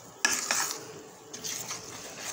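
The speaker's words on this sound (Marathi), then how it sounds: "हे पहा, आपलं इकडं बेसन भाजलं जात आहे।" Gram flour roasting in a pan for besan barfi, a spoon scraping and clinking against the metal in a few quick strokes, then softer stirring, close and fairly quiet.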